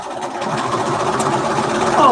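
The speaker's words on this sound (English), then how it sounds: "Now we'll sew it." A sewing machine runs steadily while stitching a Dear Jane corner quilt block, its motor hum continuous and fairly close throughout the short stretch.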